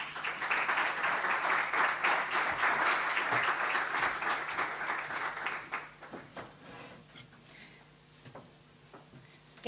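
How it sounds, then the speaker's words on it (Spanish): A seminar audience at the Museo do Mar de Galicia applauds a guest speaker: dense clapping starts loud, thins after about five seconds and fades to a few scattered claps. "un aplauso."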